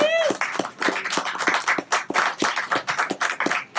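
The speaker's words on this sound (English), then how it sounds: "Another round of applause for Kim Shuck." A crowd claps steadily together at a bar, with a brief whistle at the start and some voices mixed into the applause.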